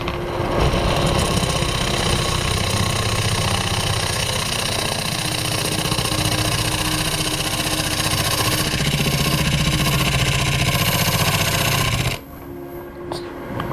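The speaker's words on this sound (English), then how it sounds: "Now this is a shear scraping. It's what's commonly known as shear scraping." A wood lathe spins steadily while a chisel shear-scrapes the turning wood, a loud continuous whirring hum with scraping texture that runs unbroken for about twelve seconds before dropping away to quieter noise.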